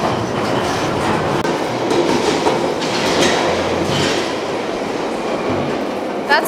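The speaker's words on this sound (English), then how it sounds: "That's one fast train." A fast London Underground train rushes past close by, with a loud, continuous rumble and rattling clickety-clack of wheels on track that stays strong for several seconds.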